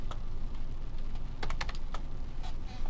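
Quick, irregular keystrokes rattle on a computer keyboard while code is entered in the Xilinx ISE software, soft close clicks with a few louder taps clustered in the middle.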